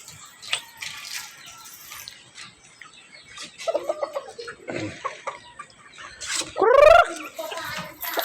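Chickens being fed cluck and chatter intermittently at close range, with scattered pecking and rattling, a loud rising squawk near the end, and a person speaking between the calls.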